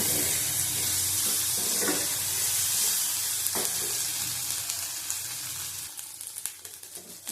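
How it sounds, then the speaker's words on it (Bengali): Bottle gourd peel fries in a pan with a steady, dense sizzle that is loud at first and thins out toward the end, with a few light stirring knocks and no voices. "এটা ভালো করে ভেজে নিতে হবে"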